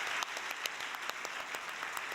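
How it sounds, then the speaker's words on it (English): Quiet, distant audience applause for church members standing at the back of a hall, a thin steady patter of claps with a few sharper individual hits, fading slightly. "Let's give them a big round of applause."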